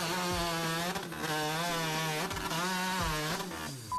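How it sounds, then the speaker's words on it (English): A chainsaw cuts through wood in fast, skilled record-setting work, a loud buzzing engine whose pitch rises and dips repeatedly as the chain bites into the timber. "This is what world record-breaking chainsaw work looks like."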